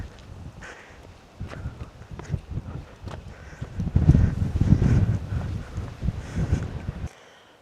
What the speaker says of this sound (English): Oh, that wind. It's strong